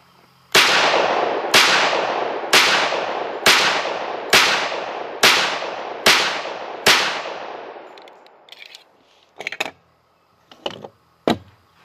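Sig 1911 pistol loaded from a Kimber ProTac magazine fires eight loud, sharp shots at a steady pace, about one per second, each leaving a decaying ring. Faint handling clicks and small knocks follow.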